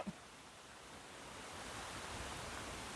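A steady, even rush of falling water fills the scene, a constant broadband hiss that builds slightly and stays unbroken throughout.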